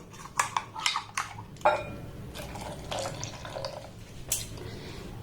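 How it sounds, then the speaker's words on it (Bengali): Water sloshes and splashes as a mixer's blender jar is rinsed, with light clinks and knocks against the jar, soft and close over a faint background hum. "জল দিয়ে মিক্সির জারটাকে খুব ভালোভাবে আমি ধুয়ে নেব।"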